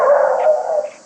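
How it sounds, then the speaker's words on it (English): One drawn-out dog bark or yelp, close and fairly loud, tapering off at the end. "Barking dog."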